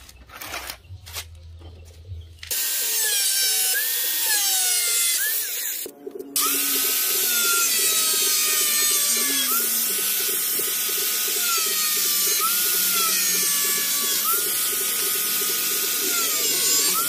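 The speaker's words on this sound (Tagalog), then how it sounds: "Gamit tayo ng grinder mga idol." An angle grinder trims a homemade sheath for a bolo knife, first some clattering handling, then a loud, close, sustained whine that wavers in pitch, stops briefly, and starts again.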